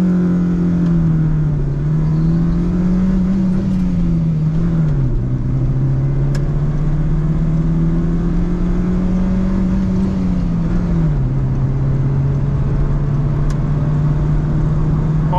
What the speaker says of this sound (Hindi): अब मैं इसका 0 to 100 टेस्ट करने लगा हूँ